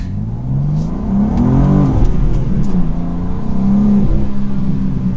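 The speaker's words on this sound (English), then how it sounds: "There's a lot of drama to it, giving it some gas." Engine of a 2024 BMW M2 or 2024 Audi RS3 performance car revving hard, pitch sweeping up and down in loud, close bursts with a deep throaty exhaust tone throughout.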